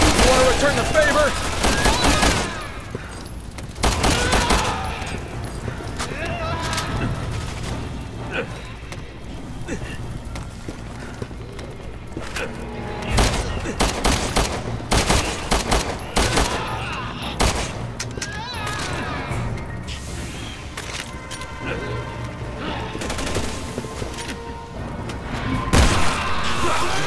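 Rapid bursts and sustained volleys of gunfire fill a Resident Evil 6 firefight, loud and close, with heavy thuds and impacts scattered throughout and voices talking between the shots.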